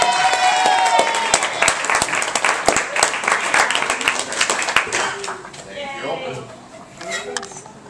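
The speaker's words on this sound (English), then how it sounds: "Please clap for Shappy" Audience members at a spoken-word nerd event clap for a performer, scattered crisp claps mixed with chatter and cheering voices, thinning out as the crowd quiets.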